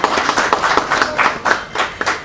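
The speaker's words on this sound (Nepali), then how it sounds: "यहाँहरू सबैजनाले आफ्नो ठाउँबाट जोरदार तालीका साथ कृपया यहाँले सम्मान गरिदिनुको लागि म हार्दिक अनुरोध गर्दछु" An audience at the opening of a public event in Nepal claps loudly, with uneven, close hand claps forming a scattered rhythm that lasts a couple of seconds.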